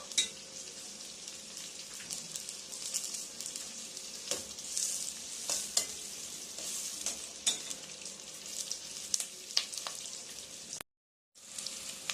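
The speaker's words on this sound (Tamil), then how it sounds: "இப்போ ஓரளவு இது வெங்காயம் நல்லா வதங்கிட்டுங்க" Onions sautéing in a pan for paneer butter masala sizzle and crackle steadily up close, with stirring clinks scattered throughout and a brief dropout near the end; no one speaks.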